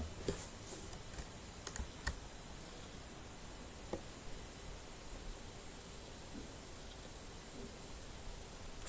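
Sparse computer keyboard presses delete text while editing code, faint scattered clicks over a steady hiss with no talk.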